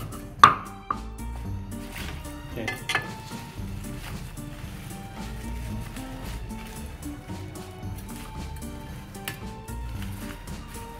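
Amaranth is chopped for a Khmer soup in a home kitchen, opening with a couple of sharp knife strikes and then settling into soft, scattered cutting and clatter, fairly quiet.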